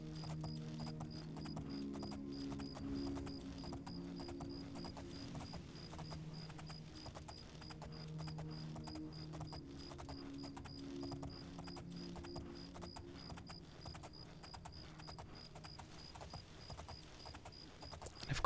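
Steady clip-clop of horse hooves in the fantasy role-playing game The Elder Scrolls IV: Oblivion, an even walking rhythm that continues for the whole stretch, moderately loud and alone, with a faint repeating high tone behind it.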